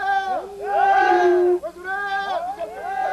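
Pigs squealing loudly as villagers carry them in a noisy jungle-village procession, high wavering cries rising and falling in long bursts with crowd voices mixed in.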